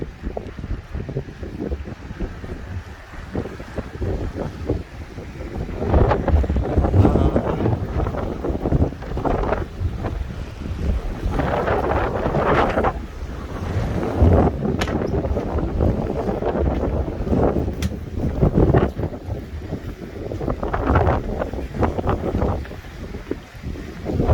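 Cool wind blows by the sea on a coastal walk, a loud continuous rushing buffet across the microphone that swells and eases in gusts, with a low rumble beneath.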